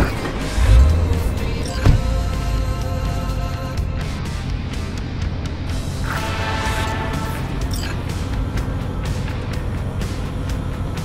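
A car driven in the video game Cyberpunk 2077 hums steadily with a low engine drone, a couple of heavier thumps early on, and faint game sounds layered on top.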